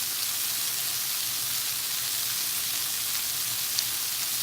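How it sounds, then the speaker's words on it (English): Salsa splatters and sizzles steadily in a hot Saladmaster pan, a bright, even crackle of frying that holds constant throughout with a single sharper pop near the end and no talking. "getting little splatters"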